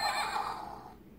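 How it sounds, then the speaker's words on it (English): Electronic horse neigh played from a toy farm tractor, a single whinny lasting about a second, fairly near and clear, fading out at the end. "Horse."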